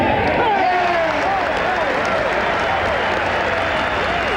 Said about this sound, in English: should he hold this putt, I think you're going to hear one tremendous ovation